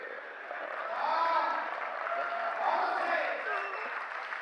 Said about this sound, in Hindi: पीछे वालों की तालियां कम आ रही है